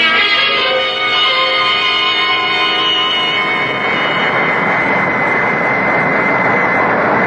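Steady propeller-driven airplane engine drone used as a radio drama sound effect, a loud continuous roar that opens with a tonal hum and settles into a broad rushing cabin noise, with no one speaking.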